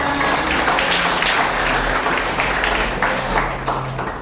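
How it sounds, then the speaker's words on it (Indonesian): A church congregation applauds at an anniversary service, steady sustained clapping from a crowd filling the whole moment, loud and continuous with no talk over it. "tepuk tangan buat Tuhan Yesus"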